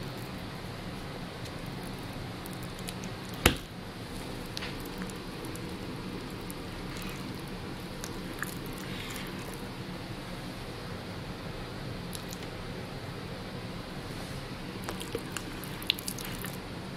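Lard being dug and scooped from a container for soap making gives soft, faint squishing and wet smacking sounds, with a few sharp clicks over a quiet background hiss.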